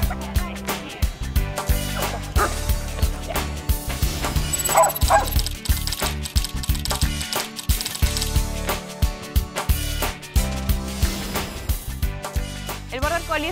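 A Border Collie barks repeatedly, close and fairly loud, amid a dense, busy background of other sound.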